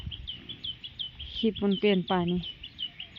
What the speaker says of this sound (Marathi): पक्ष्यांचा किलबिल्यात